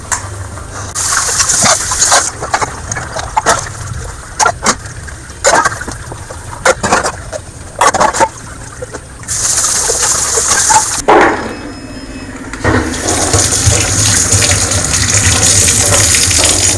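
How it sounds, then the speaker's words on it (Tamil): Running water from a tap splashes and gushes as dishes are washed at a home sink, broken by clinks and short pauses, then a steadier, louder stream near the end. "ஒரு வழியாக எல்லா பாத்திரத்தையும் வாஷ் பண்ணியாச்சு"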